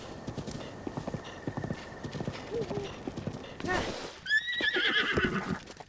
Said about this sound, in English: as I said, it's a spirit horse.